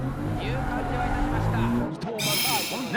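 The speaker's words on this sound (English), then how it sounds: "He enters his drift with a deep angle." A drift car at a D1 drift race in Nikko screeches its tires through a deep-angle slide under a revving engine, the squeal close and loud with a commentator's voice layered over it.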